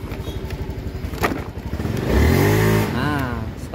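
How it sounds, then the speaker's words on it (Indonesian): An automatic scooter engine fires up and idles with a rapid putter, then revs up in a rising, sustained whine before settling back, close by, with a few knocks and clatter at the start. "Oke, motornya hidup."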